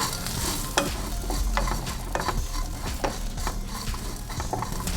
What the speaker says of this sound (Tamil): கொஞ்சம் தேங்காய் இதையும் கொஞ்சம் வறுத்துக்கலாம்